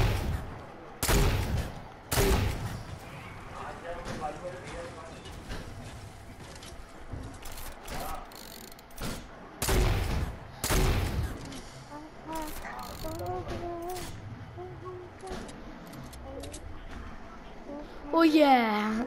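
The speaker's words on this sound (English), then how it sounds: "I'm just shooting eggs in that northwest house." Gunfire in Fortnite comes in scattered short bursts of sharp shots, some loud and some faint, mixed with clicking game mechanisms while players talk throughout.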